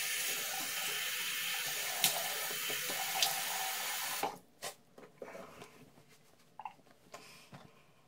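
A bathroom tap runs steadily for about four seconds while whiskers are wetted before a shave, then shuts off, leaving splashes and drips of water in the sink, fairly close.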